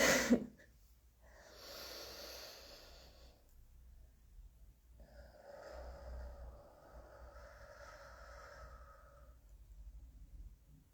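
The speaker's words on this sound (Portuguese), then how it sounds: "Continue respirando de uma forma confortável agora." Slow, comfortable breathing during a guided relaxation exercise, two long soft breaths close to the microphone separated by a pause, with no speech.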